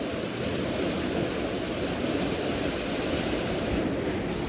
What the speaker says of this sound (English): You can hear that water just churning around.